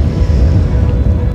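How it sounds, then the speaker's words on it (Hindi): Strong wind gusts across the Ganges River at a ghat in Sultanganj, India, producing loud, rumbling buffeting against the microphone. "देखिए पानी की लहरों से ही आप अंदाज़ा लगा लीजिए कि यहाँ कितनी हवा चल रही है"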